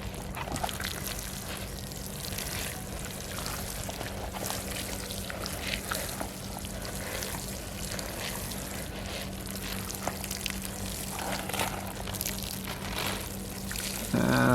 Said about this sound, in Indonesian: Jadi ini kita siram dulu.